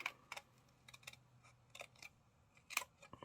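Paper snips cutting card stock for a handmade Valentine card with Anna Griffin rose layer dies, several crisp close snips spaced irregularly, quiet and alone.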